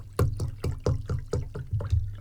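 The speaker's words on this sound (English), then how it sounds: "I'm just filling a glass of water up from a big bottle of water that I keep here." Water glugs from a big bottle into a glass in a run of about eight regular, bubbly pulses, close and fairly loud, with no talking.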